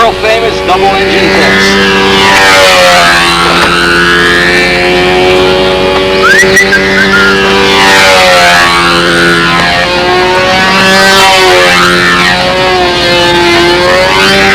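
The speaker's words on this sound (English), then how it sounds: "we're ready for the double engine test" The twin engines of a model A-26 plane run in a ground test, giving a loud, continuous buzzing drone whose pitch rises and falls as the throttle changes, close to the microphone throughout.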